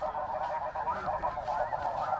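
A huge flock of snow geese honking continuously and loudly overhead during a conservation hunt in rain, a dense, overlapping chorus of calls with no pauses.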